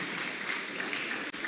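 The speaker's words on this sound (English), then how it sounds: "One more time, please, a round of applause for Lady Diana." Audience applauding at a TEDx event in Warri, a steady dense wash of clapping that holds at an even level throughout, with no talk over it.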